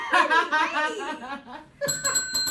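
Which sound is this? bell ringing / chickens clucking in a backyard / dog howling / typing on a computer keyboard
bell ringing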